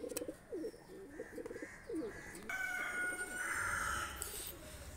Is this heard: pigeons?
yes